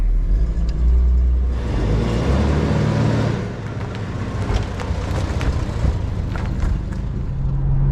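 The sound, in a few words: car pulling away in drive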